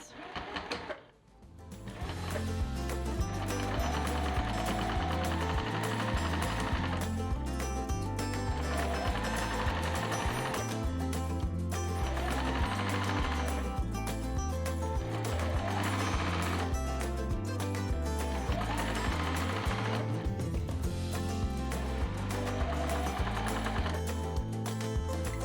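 A sewing machine stitches the final ends onto a rag quilt, a close, continuous mechanical whir and rapid ticking kept up for nearly the whole stretch, with brief pauses and steady background sound beneath.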